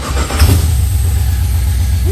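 A Holden HQ Monaro engine starts with a brief cranking burst, then settles into a loud, steady low rumble at idle, heard close up.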